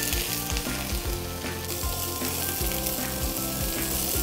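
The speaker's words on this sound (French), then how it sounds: "Ensuite, je fais revenir l'oignon, les poivrons et la carotte." Chopped onion sizzles steadily in a hot pan, a dense close frying hiss running throughout with low stirring knocks and scraping, no voices.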